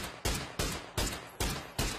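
Gunfire in a PUBG esports match: five loud, evenly spaced shots ring out about every 0.4 seconds, each with a sharp crack and a brief decaying tail.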